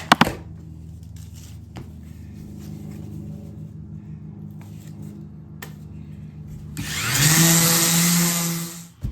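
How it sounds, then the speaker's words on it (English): A power sander with a sandpaper disc working a wooden cutting board starts up near the end, jumping from a low, steady hum to a loud, bright, close whir that holds for the final seconds. "You'll probably need about 3 or 4 discs of sandpaper to get through this initial"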